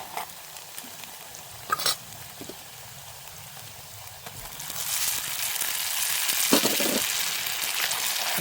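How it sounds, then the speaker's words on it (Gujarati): Tomato gravy hits a hot pan of golden-browned onion gravy for a whole-onion and chana dal curry. A quiet stir gives way to a loud, steady sizzle that fills the second half. "હવે આપણે આમાં નાખી દેવાની છે ટમેટાની બનાવેલી ગ્રેવી"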